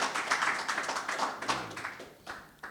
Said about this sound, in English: Give Ashanti a round of applause.